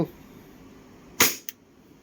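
WE Glock 18C airsoft pistol fired in single-shot mode, giving one sharp close crack followed a moment later by a softer second snap over a low background hiss.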